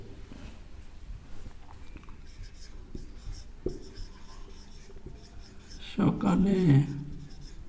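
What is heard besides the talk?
writing a sentence on a board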